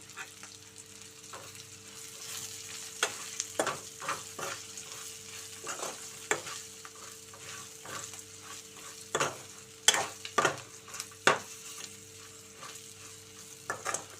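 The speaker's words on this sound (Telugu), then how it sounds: "తర్వాత ఒక హాఫ్ టేబుల్ స్పూన్ కారం కూడా వేసేసుకుని బాగా కలుపుకుందాం మనం" Ivy gourd fry with chili powder is stirred in a pan: a low, steady sizzle runs throughout while a spoon knocks and scrapes against the pan in irregular clinks, some clustered in quick bursts.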